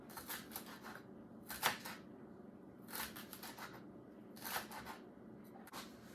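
A knife chopping celery into small pieces on a cutting board for a Waldorf salad, heard as bursts of quick crisp chops with short pauses between them, close and fairly quiet.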